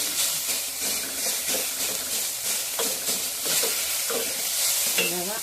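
Spring onion whites being stirred and lightly mashed in a frying pan, with steady sizzling and irregular scraping and pressing strokes of a spoon, close and continuous.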